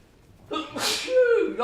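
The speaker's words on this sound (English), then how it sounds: "I'm gonna sneeze." A single human sneeze, close and loud, starting with a sharp breathy burst and trailing into a voiced tail, with a short intake of breath before it.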